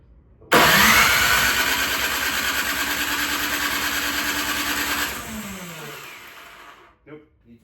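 A Craftsman 24-inch snow blower engine kicks on abruptly and runs loudly with a steady high whine and roar for about five seconds, then winds down and stalls, leaving a faint sputter near the end.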